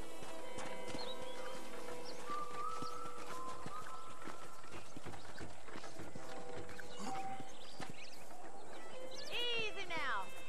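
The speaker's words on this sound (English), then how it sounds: "let's see if you can still ride a horse" Hooves clip-clop steadily as a horse is ridden on a ranch in the Red Dead Redemption game, with a whinny near the end and characters talking over the riding.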